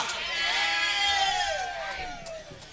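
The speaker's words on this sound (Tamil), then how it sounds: "என்னதான் பொட்டமாடு கத்துச்சுன்னா காளைக்காகத்தாண்டா." A cow lows in a long, high, wavering call with a rising and falling pitch, fairly loud and close, with a crowd of people noisy in the background.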